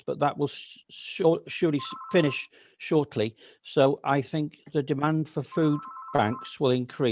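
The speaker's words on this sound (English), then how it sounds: "Sorry about my phone." A mobile phone rings twice in short steady electronic bursts during an online council planning committee meeting, faint and partly buried under a man's continuous speech.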